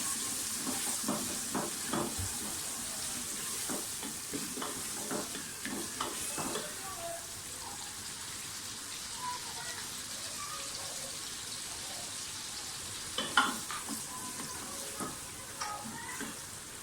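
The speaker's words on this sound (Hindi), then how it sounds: "प्याज को अच्छी तरह से फ्राई करें।" Onions sizzle steadily in a hot pan while a spoon stirs and scrapes in bursts, close up, with occasional clinks and no voices.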